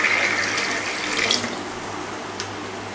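About 750 ml of water pours from a tap into a pressure cooker holding peas, salt and turmeric, a steady close hiss and splash that slackens midway and ends with a brief knock.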